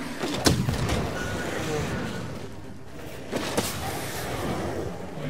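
Bowgun shots in the video game Monster Hunter World, two sharp booming reports a few seconds apart over a busy layer of game noise and battle sounds.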